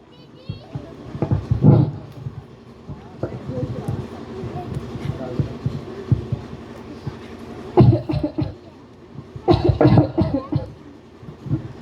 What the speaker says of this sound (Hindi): माँ प्लीज खांसना बंद करो